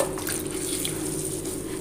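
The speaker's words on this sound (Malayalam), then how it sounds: "ഇനി അത് ഇതേപോലെ അതിൽ നല്ലോണം വെള്ളം ഉണ്ടാവും നമുക്കത് പിഴിഞ്ഞെടുക്കാം" Water squeezed by hand from washed taro stalks in a kitchen, a short, close, continuous trickle and splash without any voices.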